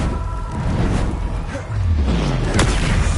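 A fire spell being cast in the Hogwarts Legacy video game lands as a deep booming blast with a rumbling low-end swell and a sharp crack near the end, loud and close over steady game background.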